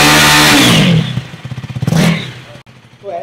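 A 2024 KTM Duke 250 motorcycle with an underbelly exhaust revs up close by, the engine note climbing in a quick series of pulsing blips before dropping back toward idle, loud and alone with no talk.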